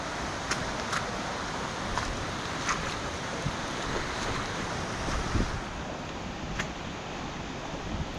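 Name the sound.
stream water flowing fast toward waterfall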